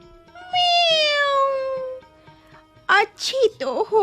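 A human voice imitates a cat, giving one long drawn-out meow as a black cat, then a few shorter, choppier meow-like cries after a pause, loud and close.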